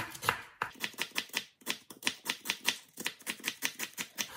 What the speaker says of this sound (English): Now I'm going to cut the onions.